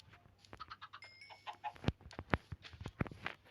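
Chickens cluck and squawk in short bursts over a few seconds, mixed with sharp clicks and taps, fairly close.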